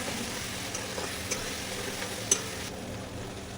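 Soya chilli with sugar, chilli powder and black pepper sizzling in hot oil while a spoon stirs it, a steady close frying hiss with a few soft scrapes and taps against the pan.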